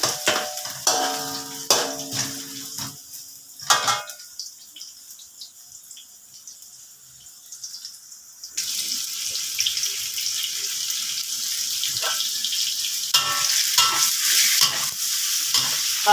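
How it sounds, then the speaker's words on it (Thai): Sliced red shallots fry in a pan until golden. Clinking and stirring come first, then a steady, close sizzle of hot oil holds for the rest. "เจียวหอมแดงให้หอมเหลืองก่อน"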